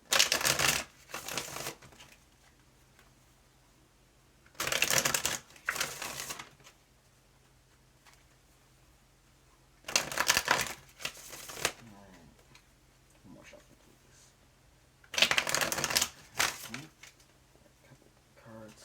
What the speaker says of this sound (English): Alright, we're gonna get you some more tarot cards.